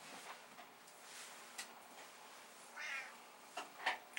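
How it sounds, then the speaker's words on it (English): A house cat meows several times indoors, with faint short cries spaced across a few seconds against a quiet room background. "oh, I hear a cat"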